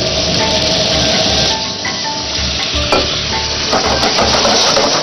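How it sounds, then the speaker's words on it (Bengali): Chicken sautéing in butter in a pan for a chicken and vegetable stew, with a steady, close sizzle and occasional stirring scrapes running throughout, no talking. "চিকেনটা তাহলে এরকম হালকা করে বাটারে সতে করতে হবে"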